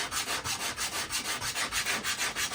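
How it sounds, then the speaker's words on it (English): Sandpaper rubs over a small wooden propeller toy in fast, even back-and-forth strokes, a close, steady rasping rhythm with no voices. "you can see I'm moving the sandpaper around like that"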